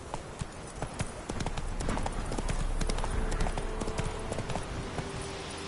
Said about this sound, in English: Run, Roach. Let's go